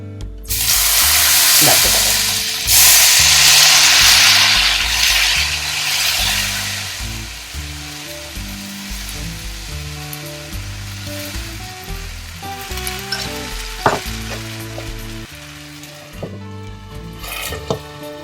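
Jowar flour batter hits hot oil in a pan and breaks into a loud, bright sizzle that slowly settles into a steady frying hiss, with occasional clinks of utensils.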